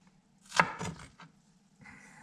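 Knife chopping through an onion on a cutting board while making chili, a few quick close cuts with a sharp first thunk, then a lighter follow-up stroke and a faint scrape.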